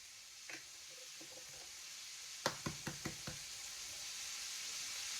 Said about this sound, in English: we crack 2 eggs